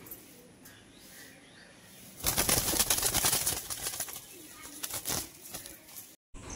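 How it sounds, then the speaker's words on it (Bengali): A pair of Baghdadi pigeons, an adult male and female, flap their wings in a loud burst of fluttering close by, with soft intermittent sounds after, and no talking. "তো এবার নেক্সট পেয়ার একজোড়া বাগদাদি পায়রা বন্ধুরা"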